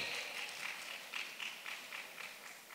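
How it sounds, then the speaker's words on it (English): Conference audience applauding in a large hall, a steady wash of many hands clapping at moderate distance, sustained with slight swells throughout. "A round of applause for Ijoma as she comes."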